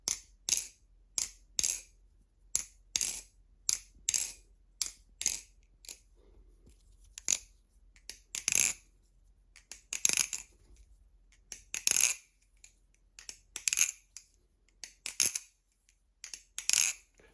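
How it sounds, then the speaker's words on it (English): An Armed Shark Replicant clone balisong trainer, freshly lubed, is flipped and clacks in quick sharp metallic bursts. Fast rattling clusters come first, then more spaced snaps and clicks. The sound is close and crisp, with quiet gaps between moves. "I'll get you a quick sound test with it lubed and then some flipping"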